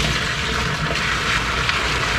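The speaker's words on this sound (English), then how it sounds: "I'm gonna fill it up about a quarter of the way" Water pours steadily into an aquarium tank, a continuous close rushing and splashing fill with no pauses and no talk.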